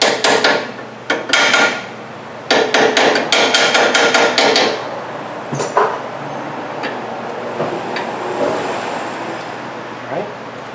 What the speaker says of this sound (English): Now this is a little bit snug on here, so we're going to tap this down just a little bit more.